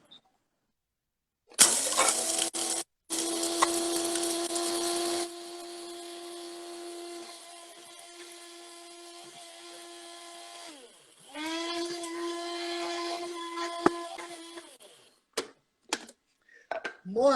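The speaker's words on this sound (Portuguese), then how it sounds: "Então, vamos moer o café?" An electric grinder mills coffee beans for a Pernambuco-style brew. A loud, steady whir runs with a sustained whine and tonal hum. It dips and then surges again before cutting off, followed by a few sharp clicks and knocks.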